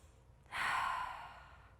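A single deep breath during a core-focused vinyasa yoga class, a soft airy exhale rising suddenly and fading over about a second, close and quiet.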